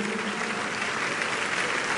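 A church congregation claps together in a dense, steady burst of applause, loud and sustained throughout with no pauses.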